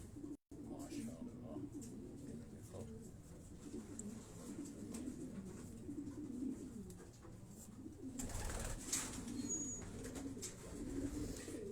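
A white racing pigeon in a loft in Quetta gives soft, repeated coos close by, with faint voices in the background.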